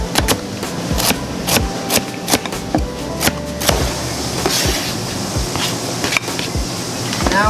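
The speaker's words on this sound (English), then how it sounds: "now I'm gonna cut the carrots" A knife chops carrots into small pieces for a fresh lentil soup, a steady run of sharp, close taps on a cutting board with frequent, fairly even strikes over a low, continuous kitchen hum.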